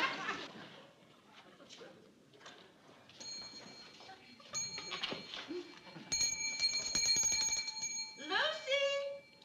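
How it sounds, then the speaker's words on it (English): A hand bell rings insistently in a 1960s sitcom, The Lucy Show, the bright metallic peals coming in a run of quick shakes after a quieter stretch of room sound. "every time she rings that bell"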